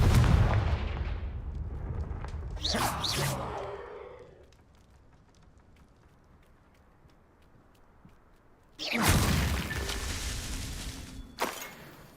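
A Confringo fire spell blast in the Hogwarts Legacy video game: a loud burst of roaring, crackling blast noise, a quiet lull, then a second powerful eruption with a sharp crack near its end.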